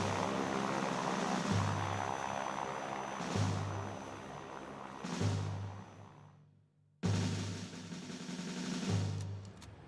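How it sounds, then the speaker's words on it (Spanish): A group of aircraft flying over a city gives off a steady, loud engine drone with a propeller hum. The drone swells and fades in slow waves and drops out briefly before returning. "Un grupo de aviones llega desde el Palomar y arroja volantes sobre la ciudad."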